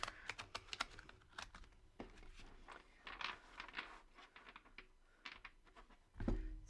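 Tarot cards given a big shuffle, a run of quick crisp riffling clicks and flutters, close and fairly faint, ending in a louder thump of the deck.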